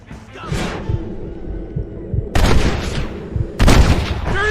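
Gunfire in the Red Dead Redemption video game: scattered rifle and pistol shots crackle amid a chaotic shootout, with loud sharp bursts of cracks and booms and raised voices shouting over the fight.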